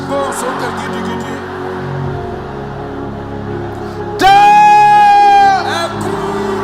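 A congregation shouts loudly during midnight prayer in a church service: one piercing, sustained vocal cry of about a second and a half rises sharply over a steady murmuring background, then drops away.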